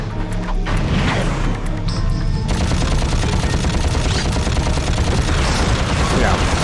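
Rapid pistol fire in the Ratchet & Clank video game, loud dense volleys of shots crackling continuously over game effects, with a voice talking underneath.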